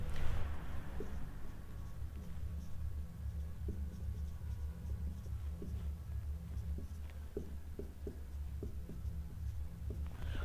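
Marker or chalk scratching across a board while chemistry formulas for amino acids are written out, a steady run of short taps and strokes over a constant low hum, with no talking.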